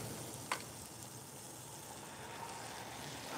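Pats of butter and the white parts of green onion sizzling in an oiled pan for jalapeno chicken fried rice, a quiet steady frying hiss with one brief sharp crackle near the start.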